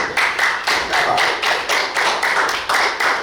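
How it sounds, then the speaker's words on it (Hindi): A group at a yoga workshop claps their hands in steady bursts, roughly eight even rounds of applause-like clapping, loud and close, with no talking. "बहुत ही बढ़िया, ताली बजाइए"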